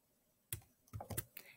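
Keyboard shortcut keys on a computer pressed in a quick cluster, several sharp clicks close to the microphone after a brief quiet stretch.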